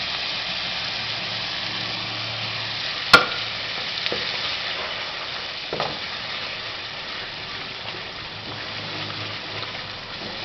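Masala spices fry in oil that has separated from a gravy for white beans, a steady soft hiss of sizzling with a sharp click and a few light stirring knocks.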